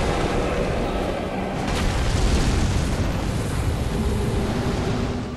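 Storm Ruler blast fired at Yhorm in Dark Souls 3, a dense roaring, rumbling surge that fills the whole moment with sustained booming energy, loud and close.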